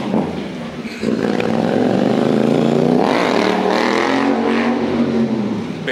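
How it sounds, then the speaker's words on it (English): Wind whipping through a structure makes a loud, steady tonal hum with rising and falling musical pitches, sustained for the whole stretch after a quieter first second. "Do you guys hear that humming? It sounds like music, but really what it is the wind whipping through there"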